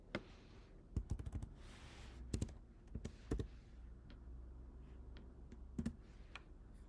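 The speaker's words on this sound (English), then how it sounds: "I'll type accept." Quiet, close clicks of a computer keyboard come in short bursts of a few keystrokes, separated by pauses, in an otherwise hushed room.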